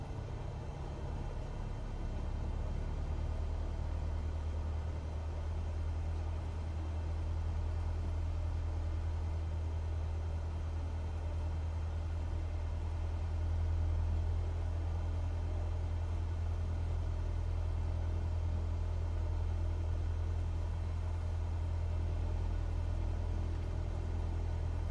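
An aircraft engine idling to warm up in Microsoft Flight Simulator drones as a steady low rumble with a faint hum above it, constant and unchanging throughout with no voices.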